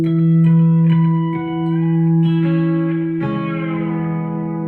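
B-bender electric guitar plays a soft background lick, the bender pulling notes up and letting them fall back, with chiming harmonics and reverb, clean and sustained with no talking.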